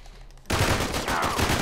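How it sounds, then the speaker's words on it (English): Gunfire from a three-round burst weapon in the video game Uncharted 3, a sudden rattling volley of close, fairly loud shots that starts after a quiet moment and continues in quick clusters. "Is this a 3-round burst gun?"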